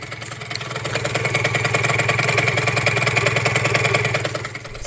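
Yamaha Aerox Nitro scooter engine, a small-capacity motor after repair work, running close by with a steady rattling, pulsing idle that swells slightly in revs and holds, with no talk over it.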